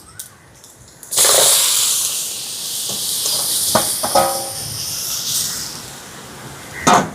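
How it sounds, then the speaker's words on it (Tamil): Beetroot tipped into a pan of sautéed onions sets off a sudden loud sizzle that holds steady, with a few clinks and scrapes of stirring and a brief louder hiss near the end. "இப்போ இங்கால வெங்காயம் வதங்கிட்டு பீட்ரூட்டை சேர்க்குறேன்."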